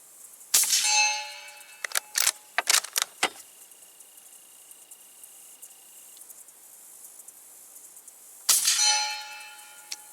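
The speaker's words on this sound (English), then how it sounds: "let's see what it sounds like in relation to shooting on the steel" Sharp metallic clangs ring out as rifle bullets strike a steel target at a shooting range: one ringing hit, a quick cluster of several more, then a final loud ringing strike after a pause.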